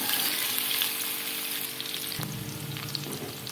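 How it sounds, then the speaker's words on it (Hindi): Onions lightly sautéing in hot oil for masoor dal, a dense steady sizzle close by, shifting slightly as they are stirred, with no talking. "प्याज को आपने इतना फ्राई नहीं करना, बस हल्के से इसको सौते करना है।"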